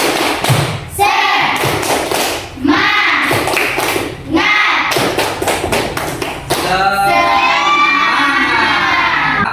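Schoolchildren in a classroom perform a rhythmic clapping chant, with sharp claps and thumps in patterned bursts, their voices chanting and shouting together loudly between and over the beats.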